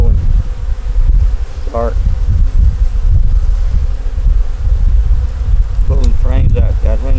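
Honey bees robbing around a hive with a small entrance make a dense, continuous buzz close by, with wind and rustling mixed in and a voice speaking briefly a couple of times.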